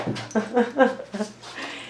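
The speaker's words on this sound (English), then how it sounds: "let me put the dog out right now" A dog whimpers in a string of short, high, nasal whines, close and moderately loud over a low steady hum, with no talk.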